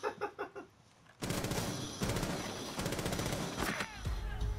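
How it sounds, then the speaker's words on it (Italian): Rainbow Six Siege gunfire strikes a concrete wall in rapid bursts of sharp cracks and impacts, loud and close, following a moment of softer game sounds. "E spari a un muro di cemento."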